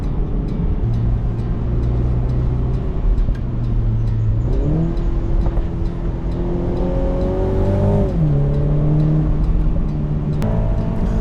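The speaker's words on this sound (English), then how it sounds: "you get to really appreciate the exhaust crackles when you have the top down" A 2024 BMW Z4 sDrive20i engine revs up through several gear changes, the pitch climbing and dropping between shifts, with crackles and pops sounding from the exhaust, heard with the top down.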